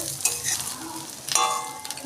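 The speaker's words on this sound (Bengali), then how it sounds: "দেখুন আমার ভেন্ডি ভাজাটা হয়ে গেছে" Okra fries in a pan with a low, continuous sizzle, punctuated by two sharp scraping strokes of a spatula and lighter stirring knocks.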